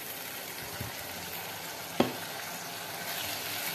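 Large pieces of raw potato frying in oil in a pan for a spicy potato curry: a steady sizzle fills the clip, with a sharp clink of a utensil stirring partway through.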